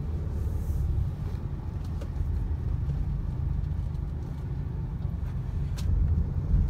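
A Mahindra XUV300 petrol SUV climbs an incline in third gear, heard from inside as a steady, low engine and road rumble that swells slightly toward the end.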